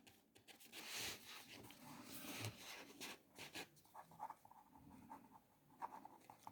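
Writing on a board during a maths lesson, quiet close scratching and tapping strokes in short irregular bursts with pauses between them.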